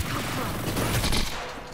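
Gunfire from the shooter game Hyper Scape comes as a dense, continuous fusillade of rapid shots, loud and unbroken for under two seconds before tapering off.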